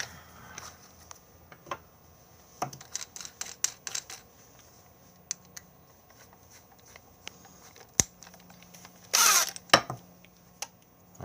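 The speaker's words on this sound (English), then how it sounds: "And you put your screws in," Screws are driven into pre-drilled holes on a homemade tablet holder: sparse, sharp mechanical clicks and ratcheting ticks spread over several seconds, with one louder grinding burst near the end, quiet and close, with no speech.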